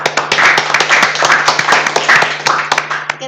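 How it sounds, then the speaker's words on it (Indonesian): Audience applause breaking out at an Indonesian podcast studio, a dense, steady wash of many hands clapping together for about three seconds, loud and close with a constant low hum underneath. "Tepuk tangan dulu."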